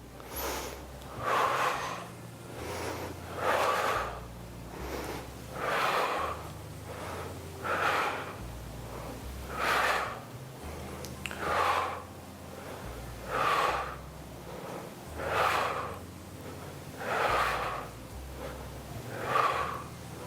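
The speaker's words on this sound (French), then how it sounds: "On inspire quand on revient et on souffle quand on monte." Rhythmic heavy breathing during a bodyweight arm exercise, with about ten evenly spaced breathy exhales repeating every two seconds, close and moderately loud over a low background hum.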